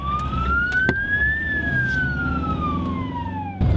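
A Ukrainian ambulance with flashing lights drives through rush-hour traffic, its loud, close siren wailing up and then sliding back down over the rumble of the engine and the road.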